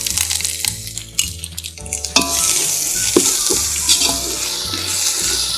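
Ginger paste fries in a hot pan for chicken biryani, a loud, continuous sizzle broken by repeated scraping stirs close at hand.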